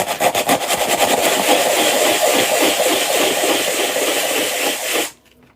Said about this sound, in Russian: Ну, я буду использовать наждачку. Вот беру и прямо так, сейчас буду шуметь.